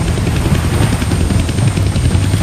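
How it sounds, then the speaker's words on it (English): A helicopter in the Deadpool video game makes a loud, steady rotor and engine drone that continues without a break, with no talk. "I can't kill that chopper with my guns"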